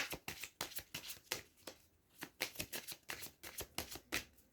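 Tarot cards shuffled by hand for a reading, a close, steady run of crisp riffling bursts repeating in quick rhythm with no voices.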